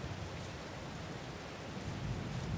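Steady, even rain hiss from the video game Farming Simulator 22, continuous and fairly loud across the whole stretch with a faint low rumble swelling near the end, no voices present.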